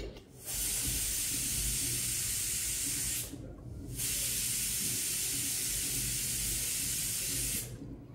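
A loud, continuous hissing whistle of steam, like a pressure cooker venting, cuts out briefly twice before resuming.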